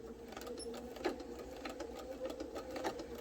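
A sewing machine backstitching along the edge of fabric for a face mask, running in a steady, fairly quiet mechanical whir with faint rhythmic ticks.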